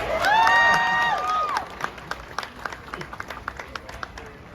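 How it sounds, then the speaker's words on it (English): A rally crowd at a reparations event in Washington, D.C. cheers and shouts loudly at first, then settles into scattered clapping that thins toward the end. "give yourselves a round of applause for being here today"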